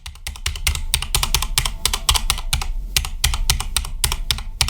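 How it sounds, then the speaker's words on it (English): Rapid, uneven typing on a Corsair K70 RGB Mark II mechanical keyboard with Cherry Red switches and pudding keycaps, a dense stream of sharp, close key clacks with no voices. "The keyboard I use is the Corsair K70 RGB Mark II, with pudding keys added that I purchased from HyperX."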